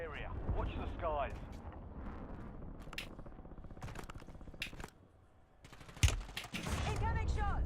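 Rapid gunfire bursts in Call of Duty: Warzone, loud and close, mixed with game sound effects and a voice talking over the shooting.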